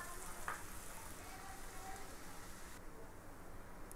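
Carrots sizzle steadily in a pan over a medium flame, a soft continuous frying hiss that stays even throughout, with a brief faint clink partway through.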